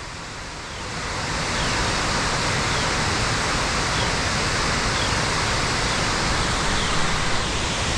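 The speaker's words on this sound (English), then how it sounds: "This is another lookout for that awesome 60-foot waterfall from the beginning." The roar of Big Clifty Falls, a 60-foot waterfall in Indiana, heard from a hiking-trail lookout: a steady, broadband rush of falling water that swells after the first second and then holds constant, with no voices.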